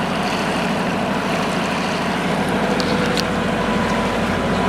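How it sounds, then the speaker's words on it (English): A classic power boat cruises out of Southwest Harbor, Maine, toward Somes Sound, its engine making a loud, steady drone mixed with rushing water and wind, unbroken and with no voices. "Here we go, cruising away from Southwest Harbor toward the entrance of Somme Sound up ahead."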